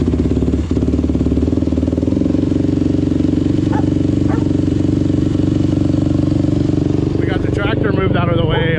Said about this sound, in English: just thought I'd get a little cold start action for you. I already got the choke guy on